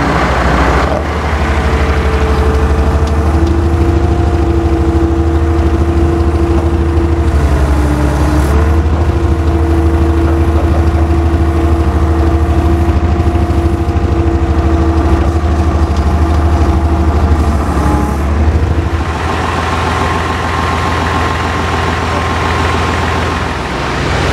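A tractor engine idles loudly and steadily during a heavy transport job dismantling a construction crane, with a brief change in tone partway through as it starts to pull away, close and continuous with no talk.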